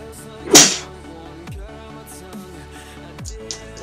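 A single sharp sneeze bursts out loudly and briefly, close and clear over a game soundtrack of steady music with occasional thuds.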